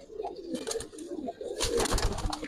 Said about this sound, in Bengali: অনেক কবুতর আসলে রাখার মতোই নেই, এত কবুতর আলহামদুলিল্লাহ